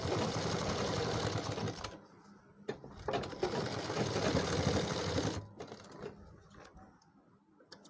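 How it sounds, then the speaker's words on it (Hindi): A sewing machine runs in fast, rattling bursts while stitching the edge of a pair of trousers, loud at first, then broken into shorter stop-start runs that fade out. "इसके ऊपर से लगा देंगे किनार की सिलाई"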